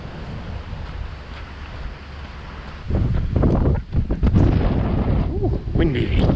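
Wind buffets the microphone beside the Toyohira River in Sapporo, first as a moderate rush and then in louder, gustier blasts. A voice speaks briefly within the noise.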